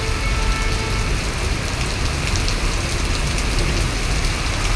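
Steady rain pouring onto a road during a traffic jam, a loud, dense, unbroken hiss with faint vehicle rumble underneath.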